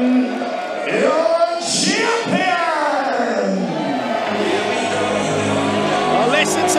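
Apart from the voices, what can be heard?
wrestling crowd reacting to the champion's entrance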